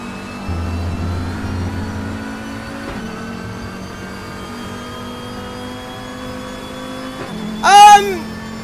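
Car engine drone with shifting tone and tyre noise in the RaceRoom racing sim, a steady low hum that dips around three seconds, then a brief louder screeching burst of tyres near the end.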